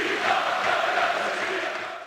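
Roar of about 10,000 Lincoln City football fans cheering as the Imps win the National League title, a dense, steady crowd wash with no single voice standing out, sustained throughout and tapering slightly at the end.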